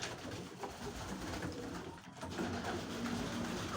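Young pigeons at evening feeding, soft cooing and bird calls from close by over a steady rustling background hum, no talking.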